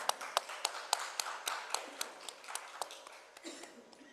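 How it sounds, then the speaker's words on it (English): A small audience at a health summit claps for the speakers, distinct individual claps that are sparse and fairly soft, fading toward the end. "Please give our speakers a round of applause."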